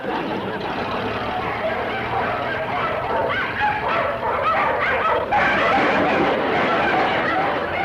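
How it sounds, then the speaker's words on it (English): Several hungry dogs bark and yip outdoors in a continuous, busy din, loud and steady throughout with overlapping voices and general commotion mixed in. "Them dogs look hungry enough to run him to the state line."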